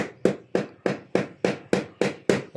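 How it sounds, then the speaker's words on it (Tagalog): A hammer taps tiles in a steady rhythm, about nine sharp strikes evenly spaced, close and fairly loud with no talking. "Binamartilyo din pala yun."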